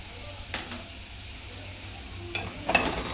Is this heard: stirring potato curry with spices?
yes